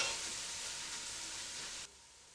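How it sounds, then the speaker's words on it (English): Finely chopped red onion and garlic-ginger paste sizzle in a hot pan, a steady close hiss that cuts off abruptly near the end. "Mix the ingredients well and cook until the onions brown."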